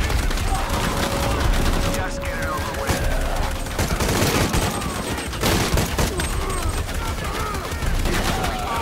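Gunfire in the Shadow of the Tomb Raider video game, with bursts of shots and sharp cracks spread through the clip, loud and up close, over game ambience.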